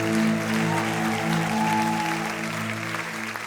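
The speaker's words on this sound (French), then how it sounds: "On peut applaudir plus fort que ça." A church congregation applauding the worship team, a continuous wash of clapping under a sustained musical tone from the band, fading slightly toward the end.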